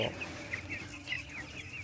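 Chickens cluck softly in short, repeated calls over a quiet background hum, several birds close by inside a poultry shed.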